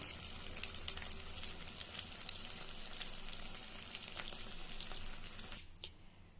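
Pointed gourd fries in a pan with a steady, bright, close sizzle and faint crackle that cuts off abruptly near the end.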